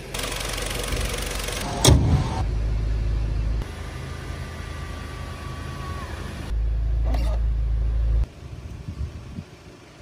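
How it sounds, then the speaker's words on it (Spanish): Electric sunroof of a Volkswagen Golf GTI running, a low motor whine in stepped stages over the car's idling engine, with a click and short pauses between movements, close inside the cabin. "Aquí probamos cómo funciona el techo solar."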